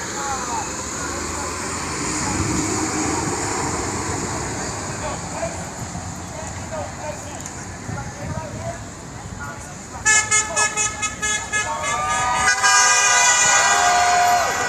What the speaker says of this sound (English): Traffic flowing freely through the city.